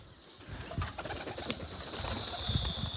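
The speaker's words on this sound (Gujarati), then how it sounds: "હવે આપણે ઉડાડી બધા કબૂતરને" Pigeons released to fly coo and flutter nearby, with soft calls and brief bursts of wing flapping over low background noise.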